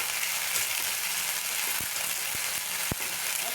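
Onion, chilli, ginger and garlic fry in hot mustard oil, a dense, steady sizzle close up with a few light clicks of a utensil.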